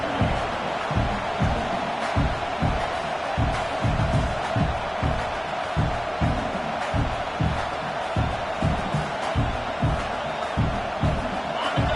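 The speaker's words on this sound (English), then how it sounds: "It's early, but this crowd is fired up. Listen to this noise here." A large college football video game stadium crowd roars continuously, with rhythmic low thumping chants pulsing steadily underneath the dense wall of cheering.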